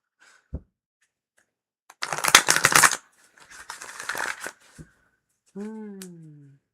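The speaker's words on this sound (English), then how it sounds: "I think that was a really good shuffle" A burst of card shuffling rattles close by for about a second, followed by softer rustling, with a short voice sounding near the end.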